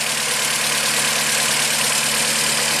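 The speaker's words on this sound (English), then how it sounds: "Idling mostly happy." A 1987 Toyota MR2 engine idles steadily, a continuous even hum with broadband hiss, no speech, level and unchanging throughout.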